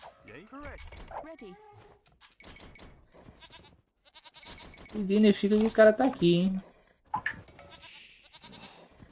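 Sheep in the strategy game Age of Empires II bleat in a short, loud burst of rising and falling calls midway through, with Portuguese-speaking gamers chatting quietly before and after.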